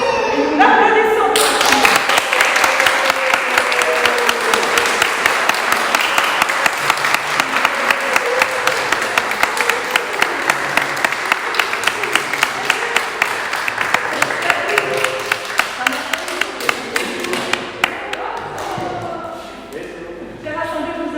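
A church congregation applauds a new member at a Protestant Sunday service in Mertzwiller, a dense sustained clapping that swells quickly and holds steady for many seconds before tapering off.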